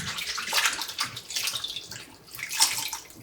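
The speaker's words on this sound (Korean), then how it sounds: "물에 3번 정도 깨끗이 씻어주고" Fresh spring mugwort washed by hand in a basin of water, close splashing and swishing in uneven bursts.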